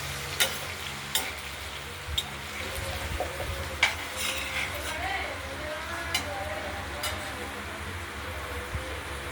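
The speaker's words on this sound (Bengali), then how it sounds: "আর এদিকে আলু ভাজাটা চলছে।" Potatoes fry in a pan on the stove, giving a steady sizzle broken by sharp clinks of stirring, with a person talking over the cooking.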